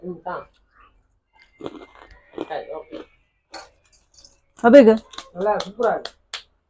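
Someone bites and chews crunchy kokis, a fried Jaffna sweet, giving scattered crisp crunching bursts, louder near the middle, with a little speech in between.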